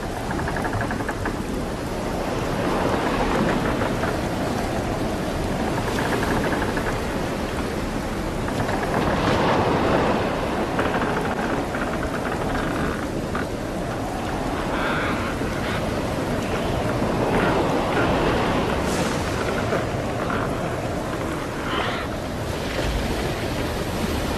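Stormy sea with strong wind and crashing waves, a loud continuous roar of surf that swells and recedes in repeated surges, with gusts layered on top and no voices.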